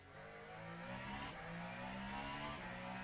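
A hypercar engine revving in the Le Mans Ultimate racing game at Spa, giving a steady, whirring mid-pitched drone that rises and falls gently. The sound is fairly faint and continuous, with no one talking.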